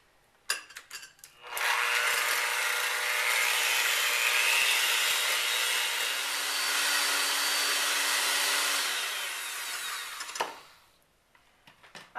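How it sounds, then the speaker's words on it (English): A hand mixer beats eggs in a big bowl, starting after a few clicks and holding a steady loud whirring drone for about eight seconds before shutting off, no speech. "I'm going to take my hand mixer and I'm going to beat them for about 3 minutes"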